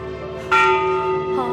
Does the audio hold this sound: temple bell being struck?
yes